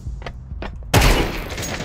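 A single sharp gunshot from a sniper rifle fired without scoping in Counter-Strike 2, a sudden loud blast midway that decays into a ringing tail, preceded by a few soft clicks.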